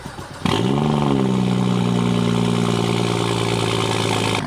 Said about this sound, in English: Now that's a cold start right there